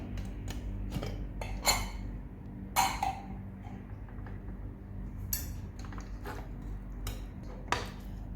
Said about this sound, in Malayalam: കുക്കറിൻ്റെ പ്രഷറൊക്കെ പോയിട്ടുണ്ട് അപ്പോൾ നമുക്ക് ഇതൊന്ന് ഓപ്പൺ ചെയ്ത് നോക്കേ